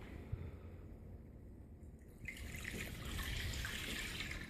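Sanitizer solution pours into a bowl during home brewing, a soft liquid stream that begins about halfway through and runs steadily, quiet and close.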